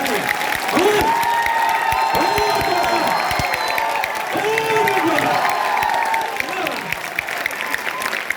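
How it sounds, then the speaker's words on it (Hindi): A meeting crowd in Bareilly claps loudly for its top leaders and management, a dense, sustained applause lasting several seconds with scattered whoops and cheers, close and full throughout. "मैं चाहूंगा दिल से एक बार जबरदस्त तालियां बजाएं"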